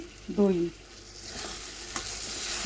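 Yogurt stirred into a frying masala in a pan for masala paneer, a soft scraping and sizzle with a brief tonal clink near the start, fairly quiet and close.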